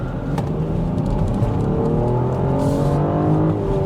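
A BMW X7 SUV accelerates hard, giving a loud, continuous engine drone that climbs gradually in pitch with no pauses, heard up close without any talk.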